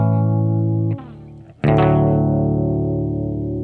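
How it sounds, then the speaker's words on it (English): An electric guitar run through effects such as distortion and chorus plays a perfect cadence, one sustained chord shifting to a louder resolving chord, with no voice over it. "when you go from chord 5 to 1, that's what's called a perfect cadence, and it sounds like this"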